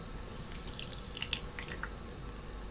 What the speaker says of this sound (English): let me just take this little hot water and add